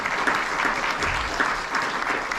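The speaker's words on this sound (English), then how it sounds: "A round of applause for the owner." An audience applauds the owner inside the Saguaro Theater, a community venue in Wickenburg, with steady, dense clapping that fills the room for a couple of seconds.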